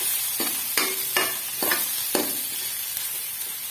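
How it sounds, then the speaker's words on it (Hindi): Onions frying in hot ghee in a pan for kofta curry, a steady broadband sizzle with several sharp bursts of stirring and scraping at irregular intervals, close and fairly loud, with no talking. "प्याज हम फ्राई करेंगे।"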